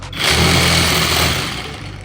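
Industrial reciprocating saw running steadily at its third speed setting, a loud continuous high-pitched motor whine with buzzing blade rattle that starts abruptly and holds for about two seconds, no talk.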